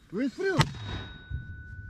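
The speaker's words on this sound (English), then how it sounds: "American mortar gun M224." An American M224 mortar fires a single sharp, loud report that rings out and fades quickly, just after a short burst of a voice.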